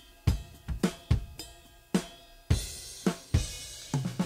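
Unprocessed drum overheads with the kick drum brought in, playing a chorus groove: punchy low thumps lock with bright cymbal-edged hits in a steady beat, full and close, with no talking.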